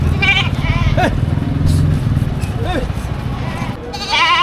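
Goats bleat at a livestock market, with two or three short quavering calls rising over a crowd of voices and the rumble of a motorcycle or engine nearby. People talk throughout.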